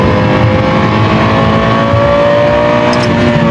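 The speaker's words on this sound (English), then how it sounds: "The Lexus LFA doesn't sound like a car. It sounds like a V10 F1 engine trapped in a samurai sword." A Lexus LFA's V10 engine revs hard and loud, a sustained high, tuned howl with rising harmonics and no talking over it.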